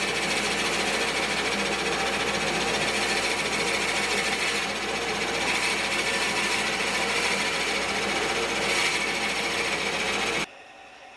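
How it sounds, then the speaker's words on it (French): A wood lathe spins at low speed while a bit bores into a pepper mill blank, producing a continuous buzzing, chattering hum at steady level that stops abruptly near the end. "Je vais mettre le tour à petite vitesse. Il ne faut pas que ça tourne trop vite pour creuser."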